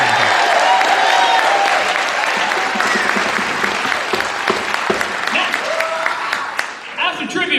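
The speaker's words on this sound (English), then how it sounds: "Give a round of applause for Coretta Scott." A crowd at a march event in Eugene, Oregon bursts into sustained, enthusiastic applause for Coretta Scott, a dense wash of clapping that gradually thins, with a voice audible over it.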